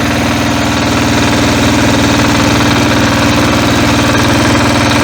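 A Motor Sich MB-9DE walk-behind tractor engine runs in gear with a loud, steady, rapid knocking chug and heavy vibration, close up and unbroken throughout with no talk.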